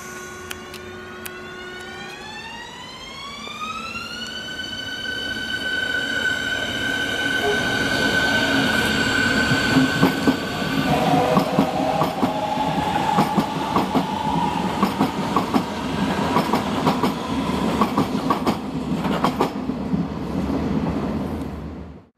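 S-Bahn class 484 electric multiple unit on the S47 line, heard from the platform: a loud, close rising stepped electric whine as it accelerates, building into steady rolling wheel and rail noise.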